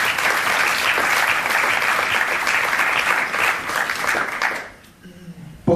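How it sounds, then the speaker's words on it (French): An audience at a film premiere claps loudly and continuously for about five seconds, then the applause breaks off abruptly into near silence with faint room noise. "on l'applaudit quand même très fort"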